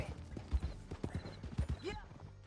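Horses galloping in Red Dead Redemption 2, a fast, close clatter of hoofbeats in quick uneven rhythm, with a brief whinny and a voice heard over it near the end.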